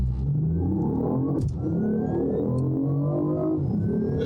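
A BMW i8 launching in sport mode from a standstill, its engine note rising steadily in pitch as the car pulls hard, a loud continuous whirring roar heard from inside the cabin.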